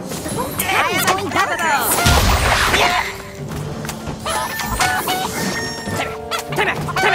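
A rooster crows in South Park Phone Destroyer amid busy game effects. Loud crashes and squawking cluck-like calls rise and fall, while character voices call out over the noise.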